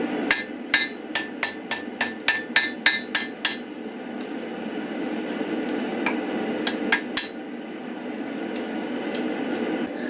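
Hammer forging a multi-layer pattern-welded steel laminate welded to O1 steel: a rapid run of about a dozen sharp, ringing metallic blows, then a pause with low background hum, then three more strikes.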